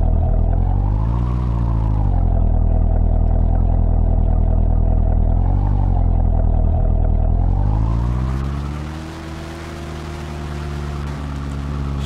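A car engine in Farming Simulator 2019 rumbles at a deep idle, swells into two short revs, then climbs into a higher sustained rev with a rough, buzzy edge, loud and close, with no talking over it.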